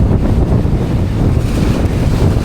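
Strong wind roars steadily on a sailboat during an ocean passage from the Bahamas to Saint Martin, blowing about 20 knots with waves washing alongside, a loud, continuous buffeting rush close on the microphone with no voices.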